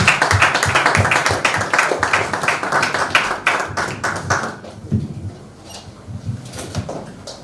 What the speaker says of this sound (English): Please a round of applause for him again.